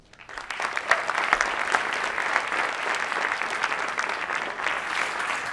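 An audience at a conference session applauds two former NFL veterans as they are introduced, with sustained, dense clapping that swells quickly and holds steady throughout.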